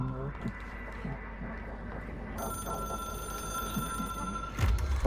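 A telephone rings in the video game Control, a steady electronic bell tone that sets in partway through and holds over game sounds and someone talking.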